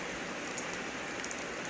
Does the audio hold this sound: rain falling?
yes